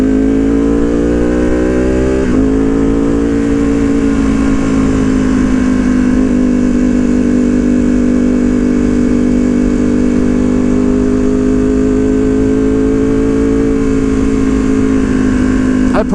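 Ducati Panigale V2 with a Vandemon full exhaust revs loudly and steadily near the microphone, holding a high idle with a rich, continuous drone and a brief blip early on.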